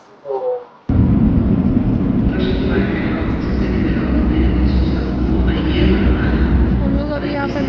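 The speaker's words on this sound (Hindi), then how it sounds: "हम लोग अभी यहाँ पे मेट्रो से उतर गए" Loud, steady rumble of an Athens metro train on an underground line, a continuous low roar with rattling carriage noise that starts abruptly and fills the whole stretch, while people talk faintly over it.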